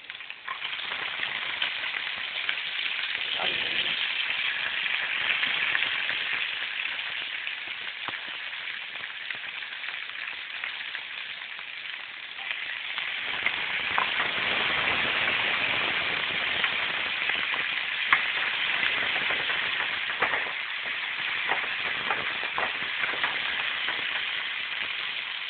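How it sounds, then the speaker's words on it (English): Bok choy sizzles and fries in a hot pan, a dense, continuous crackling hiss like heavy rain that holds loud and steady for the whole stretch, with a few brief stirring shifts. "Now that those are almost ready, we put in our bok choy."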